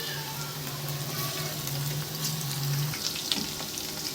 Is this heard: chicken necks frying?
yes